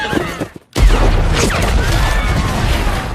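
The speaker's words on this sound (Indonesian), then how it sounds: "Ledakan itu langsung memporak-porandakan mereka semua" A dynamite-loaded wagon blows up in a scene from the 2012 film Django Unchained, a brief gap of quiet broken by a loud, sustained rumbling blast with debris crashing through it.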